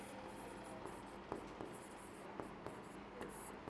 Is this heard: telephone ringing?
no